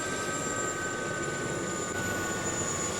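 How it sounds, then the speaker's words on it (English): Helicopter in the DCS World flight simulator game, a steady droning engine and rotor whine with high tonal hum, continuous and even without clear change in level. "now I can hear the chopper throttling down"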